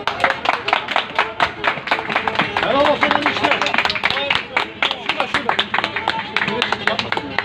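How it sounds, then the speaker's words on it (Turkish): Guests at a Turkish wedding clap steadily and rhythmically in time as the bride leaves her father's house, a close, lively patter mixed with overlapping voices and cheering. "Hadi bakalım kızlar, alkışlar nerede alkışlar?"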